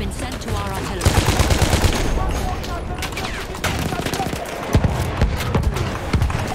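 Loud, dense automatic weapon fire from a Battlefield 1 Rush match rattles in rapid bursts over continuous battle noise, with brief gaps and sharp individual shots standing out near the end.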